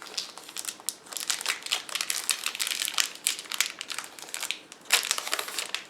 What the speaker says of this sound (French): qu'on déballe délicatement avec son petit plastique